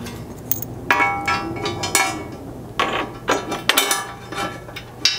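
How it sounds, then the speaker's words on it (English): A ratchet tightens an M8 flanged hex bolt through the front mounting tab of a gas tank skid on a Chevy Colorado, giving close, loud bursts of rapid clicking separated by short pauses. "we can grab the front section of the skid and get the bolt installed through this front mounting tab"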